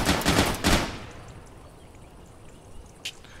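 Rapid gunfire from a Call of Duty match rattles in a dense, close burst for under a second, then drops to quiet background with one sharp later shot.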